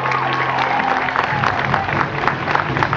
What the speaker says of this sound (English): Let's give these boys a big round of applause